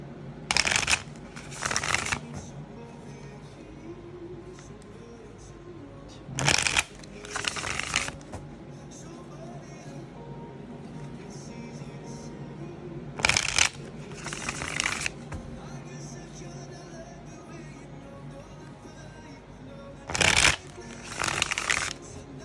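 Tarot cards shuffled in quick riffling bursts, three or four pairs of crisp rustles spaced several seconds apart, close up against a quiet background.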